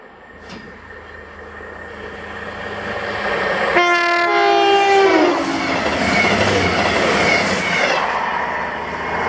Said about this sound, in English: the first one was 9M53, the 1021 Virgin train, service to London Euston from Glasgow Central